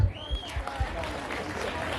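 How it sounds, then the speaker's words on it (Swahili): Audience applause at a ceremony for Ngaruiya Junior: a short burst of dense clapping with a few low thuds, holding steady for about two seconds. "Tupigie makofi."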